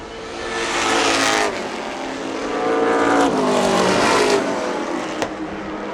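Pro stock race cars running side by side on an oval track, loud engines roaring and swelling as they pass close by, with the pitch rising and falling across two surges.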